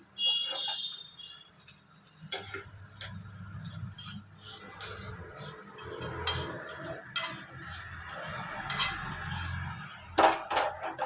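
Omelette ingredients are mixed in a pan with a metal utensil, producing a string of close clinks and scrapes against the metal in irregular bursts over faint background noise.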